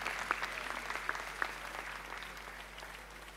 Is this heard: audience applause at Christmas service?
yes